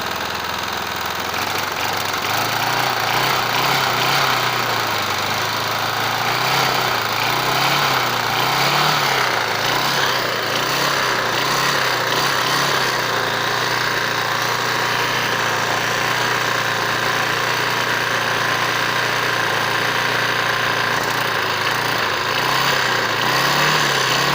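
A Briggs & Stratton 375 Sprint lawn mower engine runs steadily and loudly, its rough mechanical drone rising slightly in pace as it revs up, with a constant vibrating rattle.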